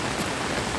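Heavy rain pours down in a dense, steady hiss with no break, loud and near, and no voices over it.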